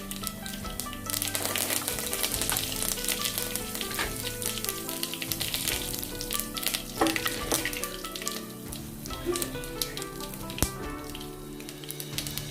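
Tempering spices and curry leaves fry in hot oil in a pan, a dense close sizzle full of rapid crackles and pops that runs without a break, with no talking.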